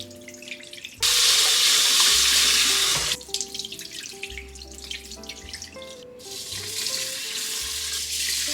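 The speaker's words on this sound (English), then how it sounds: "I don't really like to use my hands to clean the rice." A kitchen tap runs into a sink while rice is swirled and rinsed, with loud bursts of pouring water broken by quieter pauses of swishing and dripping, close by.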